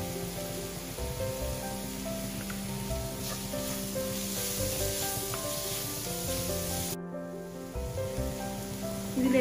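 Green chilies sauté in a hot pan with a steady, continuous sizzle that carries on evenly, cuts off briefly near the end, and then resumes.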